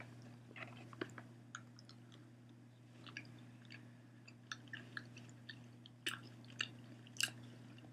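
Close, quiet chewing and crunching of Starburst jelly beans, with irregular soft crunches and squishy bites over a steady low hum, no talking.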